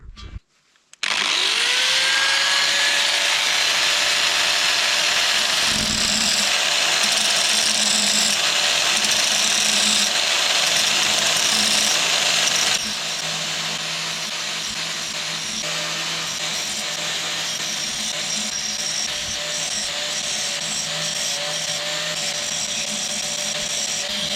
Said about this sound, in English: And I'm gonna just use a simple angle grinder for this.